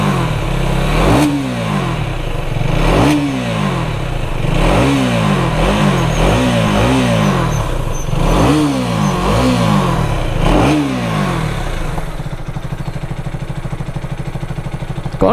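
A Husqvarna Vitpilen 250 cafe-racer motorcycle engine idles loudly up close while the throttle is blipped repeatedly in short rising revs, then settles back to a steady idle.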